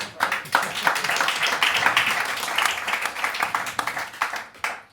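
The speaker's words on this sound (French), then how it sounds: "on peut l'applaudir" An audience at a stand-up comedy show applauds, a thick, continuous patter of many hands that swells, holds for several seconds, then tapers off near the end, with some voices in the mix.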